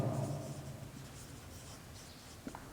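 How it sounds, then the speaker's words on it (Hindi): A pen or marker scratches steadily across a board or page as a chemistry equation is written out, a soft continuous scraping with a few small taps, and no talking over it. "तो यहां पर लिखते हैं बाबू अकॉर्डिंग टू"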